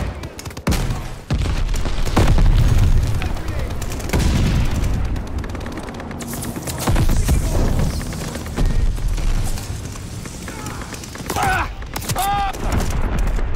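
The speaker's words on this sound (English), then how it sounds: "Enemy glide bombing" Glide bomb explosions in Call of Duty Vanguard: a run of loud booming blasts and crackling gunfire, rumbling close and continuous over several seconds, with scattered game voices and sound effects.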